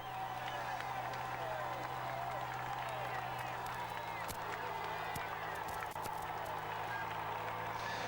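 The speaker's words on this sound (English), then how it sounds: "you see this mass crowd here cheering a Belgian" A dense Italian roadside crowd cheers and claps for passing cyclists at the Giro d'Italia, a steady wash of applause and shouts from a mass of fans, with commentary talk running over it.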